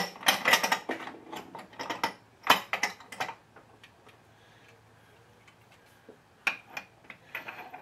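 A torque wrench fitted with a 19mm socket ratchets against a fastener on a Husqvarna 288 chainsaw case, giving close bursts of rapid clicking, then a quiet gap before a final short run of clicks.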